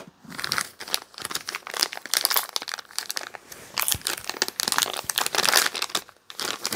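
Packing tape rips and peels off the box of a Kizer Begleiter 2.0 knife with copper scales, a close series of crinkling, crackling tears in uneven bursts, with no talk.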